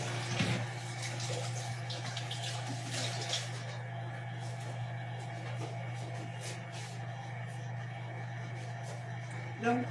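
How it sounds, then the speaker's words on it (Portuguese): Tap water runs steadily into a sink while greasy hands are rinsed in a kitchen during cake-making, with a constant rushing hiss over a low electrical hum and a few faint clatters. "Vou passar só uma água na mão."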